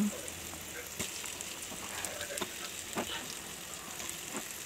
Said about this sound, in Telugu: ఇప్పుడు ఇది బాగా ఫ్రై అవుతుంది కదా, దీనిలో ముందుగా రెడీ చేసుకున్న చేపలని ఇందులో వేసేసి మనం